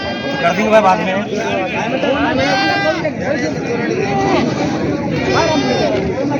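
Several goats bleat repeatedly amid a busy crowd at a large goat market in Kalamnuri, Maharashtra, their cries rising over continuous chatter and people talking nearby.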